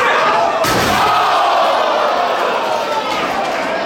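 A wrestler is backdropped onto glass and concrete at an outdoor cinder-block ring, a sharp loud slam at impact amid a roaring, shouting crowd that continues around it.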